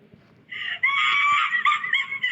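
A woman's drawn-out, high scream from the Indian horror game Peeche Thai Hai rises suddenly and wavers for about two seconds. It is loud and close, with a faint rumble beneath.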